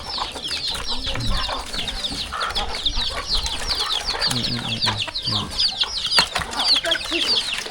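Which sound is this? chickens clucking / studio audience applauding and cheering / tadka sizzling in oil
chickens clucking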